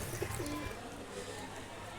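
Light-eyed chharachari-line pigeons coo softly in a short, low, murmuring burst near the start, with a faint background hum and some talk around it.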